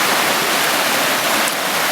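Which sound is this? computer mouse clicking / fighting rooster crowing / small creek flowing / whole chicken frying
small creek flowing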